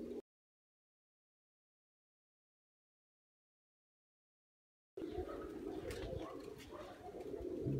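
Pigeons by a water basin cooing, soft throaty calls close by after a long silent gap, with some rustling and movement around them.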